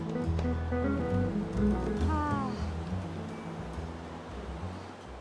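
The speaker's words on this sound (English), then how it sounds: "Check out this waterfall." A waterfall on the Ghorepani Poonhill trek in Nepal gives off a steady, broad rushing roar that fills the whole clip, with a person talking over it at first before the water carries on alone.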